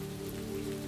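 Gentle rain falls in a steady, soft patter on surfaces, even and unbroken, with no voices over it.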